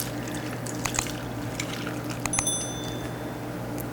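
Milk pours over raisin bran cereal in a steady, soft, close stream of liquid, with faint clinks and a light dribble at a few points.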